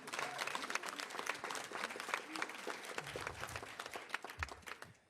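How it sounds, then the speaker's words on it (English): An audience at a mayoral youth investment announcement applauds with steady, dense clapping that continues for several seconds at moderate distance. "So can I get a huge round of applause for all the young people?"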